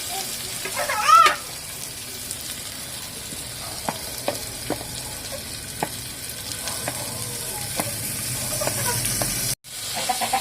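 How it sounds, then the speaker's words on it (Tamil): Steady frying sizzle of onions sautéing in oil, with hissing steam and occasional stirring clinks, close and continuous, with no talking. "நல்லா வதக்கி விட்டுக்கோங்க"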